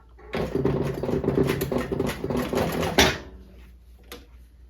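A sewing machine stitches a shift gaiter for a 1991 Lotus Esprit in one close, rapid mechanical run of about three seconds. It stops abruptly, and a single faint click follows in the quiet.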